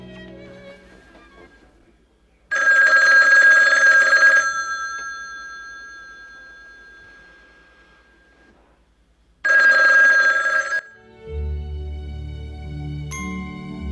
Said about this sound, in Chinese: 影片一开始在鸦片馆的场景中， 电话声不断响起